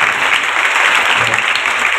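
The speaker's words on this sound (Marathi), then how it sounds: "सगळ्यांनी टाळी वाजवून त्यांचा सन्मान करायचा" Audience at a Shiva Mahapuran religious discourse at a Shiv temple in Bhiwandi claps steadily to honour a visiting guru, a dense, continuous wash of applause that stays loud throughout with no voices over it.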